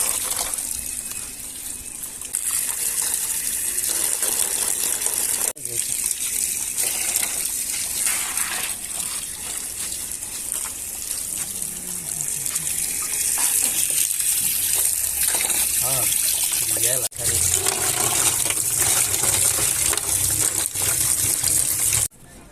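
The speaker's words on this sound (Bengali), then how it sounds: "এখন আমরা মাছগুলা ধুয়ে নিচ্ছি" Tap water gushes steadily and close by while pieces of hilsa fish are washed, a continuous splashing flow with brief dips and shifts as the stream hits the fish and bowl.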